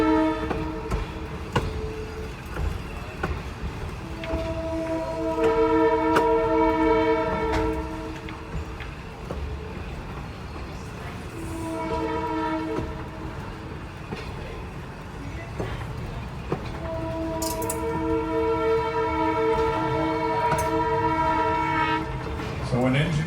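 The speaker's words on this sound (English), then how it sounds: "it's 2 long whistles, a short whistle, and then a long whistle" A Downeast Scenic Railroad train whistle blowing at road crossings, sounding as long, loud, chord-like blasts in repeated sequences of two long, one short and one long, over a steady rumble of the moving train.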